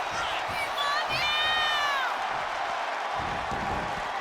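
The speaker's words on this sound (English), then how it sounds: "Look at Rhodes getting the crowd involved." Wrestling arena crowd at a WWE event cheering and whooping in a dense, roaring wash of noise, with whistles and shouts rising above it and a commentator talking over the top.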